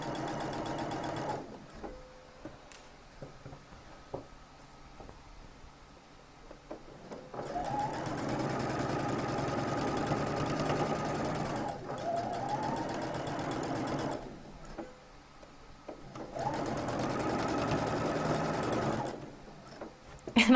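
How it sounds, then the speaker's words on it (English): A sewing machine top stitching a shirt collar runs in two long, even whirring bursts, close and clear, with quieter pauses and intermittent speech around them. "I'm top stitching now."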